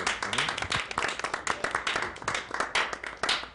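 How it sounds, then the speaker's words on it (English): A room full of people claps steadily, the dense patter of hands continuing without a break. "All right, round of applause."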